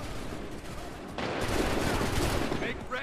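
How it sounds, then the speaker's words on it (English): Musket volley gunfire in Assassin's Creed III, set in a battle scene: a dense burst of overlapping shots breaks in over steady background battle noise and carries on as a crackling fusillade. "Make ready. Open fire."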